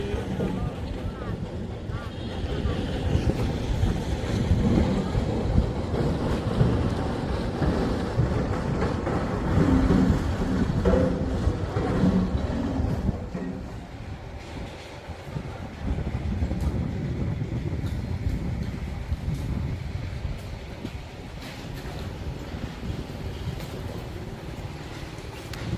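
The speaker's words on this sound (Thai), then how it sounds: "ท่าเรือบางเสลค่ะ" At Bang Saray pier in Sattahip, steady wind rushes across the microphone with a low boat engine rumble and lapping water underneath, a continuous broad roar with brief lulls.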